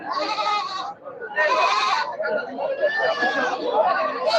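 Goats bleat loudly and repeatedly at a crowded Sunday goat market, with long, wavering bleats close by over a background of people chattering.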